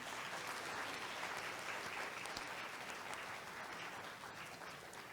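Steady audience applause at a Girl Scouts of the Philippines investiture ceremony for a newly invested member, dense continuous clapping heard from a distance that tapers slightly toward the end.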